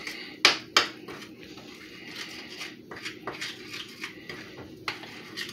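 Brownie muffin batter being stirred and mixed in a pan gives sharp utensil clinks and knocks against the metal, two loud ones early, then lighter irregular taps and scrapes.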